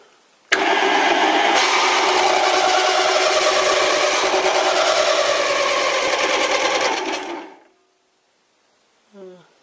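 Lathe boring deeper into a tapered drill chuck arbor, a steady loud machining whir running for about seven seconds before spinning down to silence, with a brief faint tap near the end.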